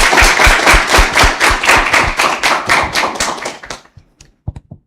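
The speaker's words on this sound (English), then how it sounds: "Give her a round of applause." An audience at a live-streamed talk gives a round of applause, a close run of sharp, distinct claps in a brisk rhythm that thins out and stops, with a few stray claps trailing after a short gap.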